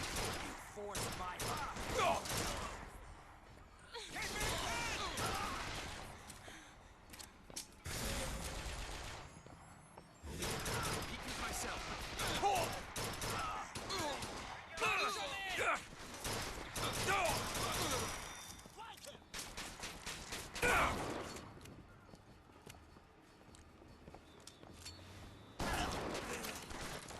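Gunfire in the shooter Bioshock Infinite: scattered shots and bursts of rapid fire keep coming in irregular clusters over almost half a minute, mixed with voices shouting during the fight.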